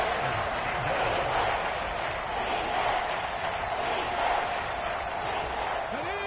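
Football stadium crowd at a Seahawks vs Vikings game, a dense continuous roar of cheering and noise that stays loud and steady throughout, with no clear individual voices breaking through.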